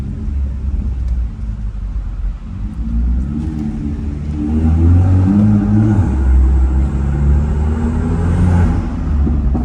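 A BMW M2 accelerates hard with a deep, close engine rumble that swells and grows louder about halfway through, with a faint high whine above it and no talking.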